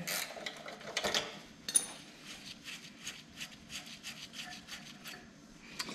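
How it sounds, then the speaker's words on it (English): A wrench loosens the chain tensioner on a Honda CT90 motorcycle, giving a run of quiet rhythmic ratcheting clicks and metal rubbing, with a few sharper knocks early on. "we're going to come on the other side and we're going to loosen the other tensioner"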